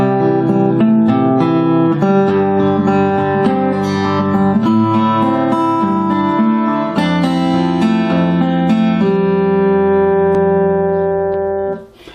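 Close, loud guitar plays through the verse of a song, strummed chords ringing in a steady pattern and fading out on a final sustained chord.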